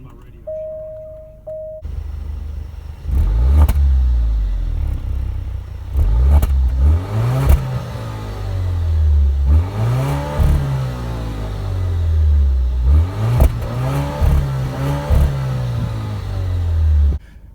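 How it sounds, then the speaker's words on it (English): A 2018 Alfa Romeo Stelvio engine cranks and starts by push button, then revs up repeatedly in loud, rising and falling bursts, with a faint speaking voice underneath. "And if I push that, that'll start the car."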